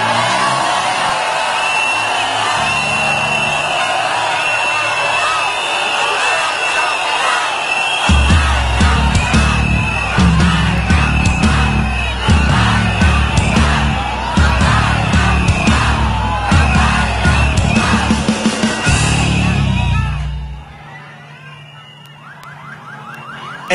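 A protest rally crowd shouts and cheers loudly and continuously, with massed voices swelling in dense waves and a steady tone underneath, then dropping away abruptly near the end.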